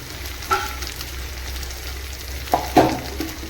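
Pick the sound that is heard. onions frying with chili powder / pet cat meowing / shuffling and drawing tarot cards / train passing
onions frying with chili powder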